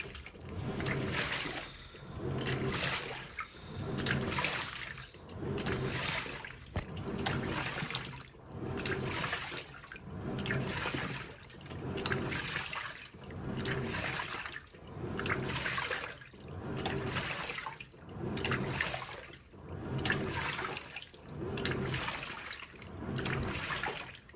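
Water churns and splashes in a steady cycle of surges, each rising and falling every couple of seconds, close and continuous with no voices, from a Panasonic 9.5kg top-load washing machine on its power wash cycle, forming three waterfalls.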